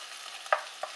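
Vegetables sizzle faintly in a pan, with two quick scraping stirs breaking through the low, steady frying hiss.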